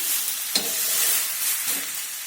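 A dal chaval snack made from lentils and rice sizzles in a pan just after being flipped, with a steady bright frying hiss and a couple of soft scraping knocks, near and alone.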